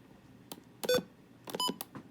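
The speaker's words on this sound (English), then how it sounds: "it's literally the button beeps of a V15 and a WR120" Short electronic button beeps from V15 and WR120 weather radios, a few quick tones in two small clusters with quiet gaps between them, close and clear against a near-silent background.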